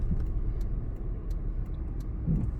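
A car moving along a road near a driving-test parking and ramp-start area, heard as a low steady engine and road rumble from inside a vehicle, with faint ticking from an indicator.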